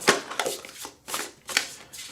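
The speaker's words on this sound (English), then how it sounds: "I'm going to go ahead and shuffle the Star Tarot." A Star Tarot card deck being shuffled by hand in close, crisp bursts of riffling and slapping cards, four or five quick shuffles separated by short pauses, with no talk.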